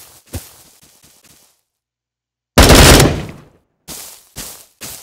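Gunfire from the mobile shooter game Bullet Force comes in sharp bursts: a short rattling volley, a pause of silence, a loud sustained automatic burst, then three quick separate shots.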